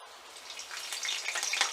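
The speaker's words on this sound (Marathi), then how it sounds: "तर आता यामध्ये आपण फोडणीसाठी कढीपत्ता टाकून घेऊयात" Curry leaves are dropped into hot oil in a kadhai for tempering and give a short, quiet burst of crackling sizzle that grows denser over under two seconds.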